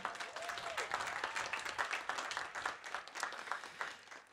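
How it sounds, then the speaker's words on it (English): Audience applause at the San José City College Class of 2025 commencement ceremony, a steady crowd clapping that holds for several seconds with a faint voice briefly audible underneath. "let's give all of those folks a round of applause for making today possible"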